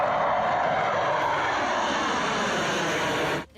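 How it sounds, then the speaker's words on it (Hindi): A Sukhoi fighter jet roars low over an expressway, a loud, steady engine rush holding throughout and cutting off abruptly at the end, with no voices. "सबसे पहले एक सुखोई फाइटर जेट तेजी से उड़ते हुए आया और एक्सप्रेसवे को चूम कर निकल गया"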